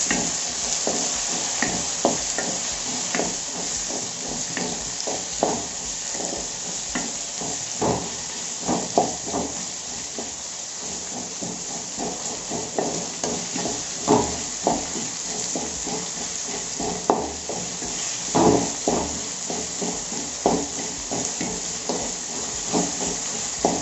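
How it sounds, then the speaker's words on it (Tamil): Tomatoes cook with softened onions for a Tamil fish curry, giving a loud, continuous hiss and sizzle. Frequent stirring clatters and taps sound close by throughout, with no speech. "இப்போ தக்காளி போட்டுருங்க."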